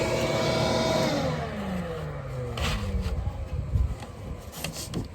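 Shop vacuum pulling a wire line through conduit for a solar array, a loud whining motor whose pitch sweeps downward and fades, followed by rattling, bumping and intermittent clattering noises.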